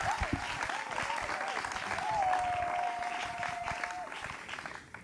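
An audience applauds to welcome pastor Erick Kibala at a church gathering, a dense stretch of clapping under which a sustained sung or hummed tone and scattered voices rise and fall.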